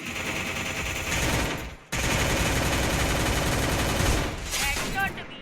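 Rapid automatic gunfire in the shooter game Free Fire, loud sustained bursts with a brief gap and a few sharp higher ricochet-like tones near the end.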